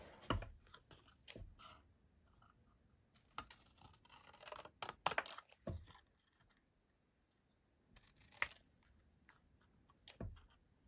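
Bigger scissors snip through card for a Christmas tree card in a quiet craft room, close and faint, with intermittent crisp cuts and rustles separated by short pauses.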